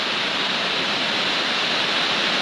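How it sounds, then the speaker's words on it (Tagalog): Heavy rain pours down steadily and loudly in a dense, unbroken roar, close by, with no voices over it. "Ang lakas po ng ulan"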